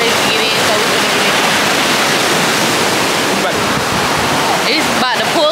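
Ocean surf at a Puerto Rico beach makes a loud, close, unbroken roar of breaking waves and churning water, with faint voices barely audible near the end.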